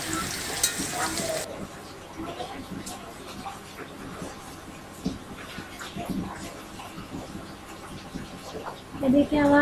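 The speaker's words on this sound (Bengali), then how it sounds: "তাহলে আলুটা ভালোভাবে ভেজে নিচ্ছি যাতে খুব সহজে সেদ্ধ হয়ে যায়।" Potatoes for beef biryani frying in a pan, a low steady sizzle with intermittent stirring scrapes and clatters, close and fairly quiet, a louder clatter near the end.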